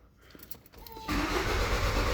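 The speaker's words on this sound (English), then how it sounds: "I'm just going to crank it a couple of times." Car engine being cranked during a high pressure fuel pump test: a soft, uneven starter-motor churn for about a second, then a loud, steady running drone that holds to the end.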